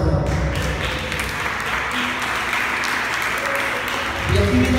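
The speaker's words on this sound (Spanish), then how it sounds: "Dale fuerte palmas al Señor." A church congregation claps loudly for the Lord during a sermon, a continuous wash of many hands clapping together, with a voice over it.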